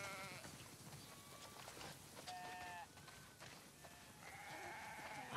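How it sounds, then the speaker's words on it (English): Several sheep bleat in overlapping, drawn-out calls with light footsteps and rustling underneath, a dense flock close by, from a video game. "Wow, that's a lot of sheep."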